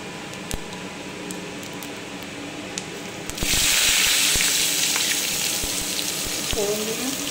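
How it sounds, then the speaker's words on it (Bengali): Shrimp hit a hot pan in a home kitchen: faint crackles give way to a sudden loud, close sizzle of frying that keeps hissing steadily. "একটু চিংড়ির শব্দ হচ্ছে, একটুখানি চিংড়িটা চালিয়েছি।"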